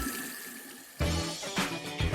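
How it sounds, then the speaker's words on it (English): Lukewarm water runs from opened taps into a sink to rinse residue from clogged pipes, a steady broadband rush that cuts in after a quiet second and swells in a few surges, close and fairly loud. "open the taps and let some lukewarm water run for a minute or so"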